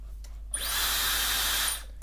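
A Dyson hair dryer switches on with a high, airy whine for just over a second, fairly loud and steady, then cuts off into quiet.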